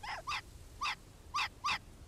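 A small dog whimpers in Hitman: Blood Money, five short high whining yelps spaced irregularly and heard close and fairly clear over a quiet background.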